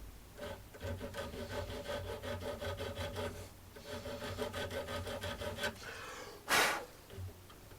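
A file rasps rhythmically across the end of wire clamped in a vise, a quiet run of rapid, even back-and-forth strokes, broken by a short pause and a sharp breathy puff near the end.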